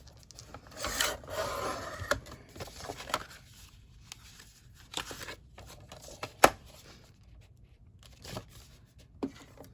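A small cutting gadget slices a thin sliver of paper for an accordion journal, giving soft scratchy rasping and rustling strokes in short irregular bursts with one sharp tap, close and quiet with no talking.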